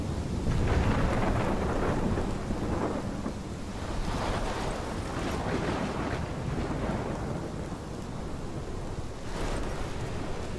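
Thunderstorm in the video game Life Is Strange: heavy rain and wind roar continuously, with rolling rumbles of thunder swelling and fading throughout, loud and close, with no voices.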